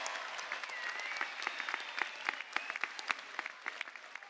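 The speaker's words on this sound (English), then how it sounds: "That deserves a big round of applause." Commencement crowd at a university graduation ceremony applauding steadily, dense clapping from many hands at moderate distance, fairly soft overall and tapering slightly toward the end.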